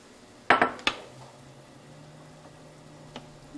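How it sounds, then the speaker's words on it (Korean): Dishes clank in a home kitchen sink during cooking: a quick cluster of three sharp clinks of plates and cutlery, then quiet running-water hiss and one faint knock. "밥하면서 설거지는 기본이죠."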